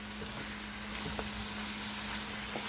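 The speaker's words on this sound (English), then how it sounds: "Then add shredded carrots. Stir and cook on medium heat" Onions and shredded carrots fry over medium heat in a pan, giving a steady, close sizzle with faint stirring taps and a low background hum.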